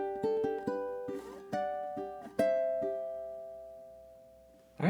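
A ukulele plucks one bar of a cute Disney-inspired tune, clear close notes picked one at a time in a slow rhythm, each ringing out and overlapping as the phrase unfolds, played alone without voices.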